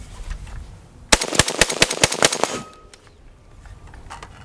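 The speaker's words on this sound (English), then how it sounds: "See, rapid fire that thing." Century Arms RAS-47 AK rifle fired in a fast burst of about eight loud, sharp shots close by, followed by a quieter ringing tail.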